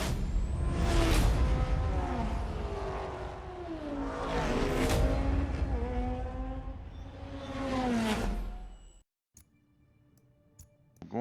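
Audi R8 GT race car in Forza Motorsport at Yas Marina, its engine roaring loud and close as it revs and climbs through three long gear pulls, then cutting to near silence with faint ticking at the end.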